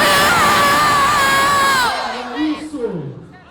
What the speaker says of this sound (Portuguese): Cadê o grito de Minas?